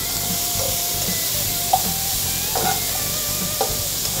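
Vegetables sauté in oil in a pan for osso buco, a steady close sizzle with occasional louder scrapes and clicks of a stirring utensil, no talk.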